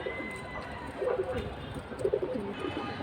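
High-flying pigeons cooing nearby, two short soft coo phrases about a second apart over a steady outdoor background hum.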